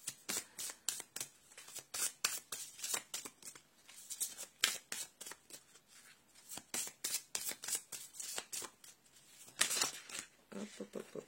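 Tarot cards are shuffled and drawn by hand in quick bursts of riffling and slapping, close and fairly quiet, with short pauses between bursts and a voice talking softly at times.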